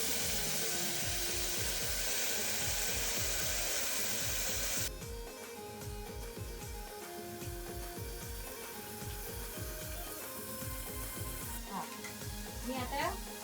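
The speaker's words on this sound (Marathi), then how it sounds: "चांगलं तेलात चांगलं हे भाजून घ्यायचं." Gavthi chicken pieces coated in masala fry in hot oil with a loud, constant sizzle, while a spoon stirs in a quick, regular scraping rhythm; the hiss drops slightly partway through as the frying continues.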